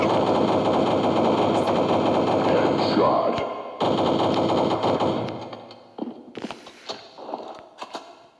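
Rapid gunfire from the video game Counter-Strike, loud bursts of automatic fire running almost without a break for about six seconds, then scattered single shots and short bursts trailing off.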